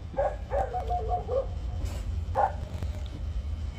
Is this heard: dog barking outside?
yes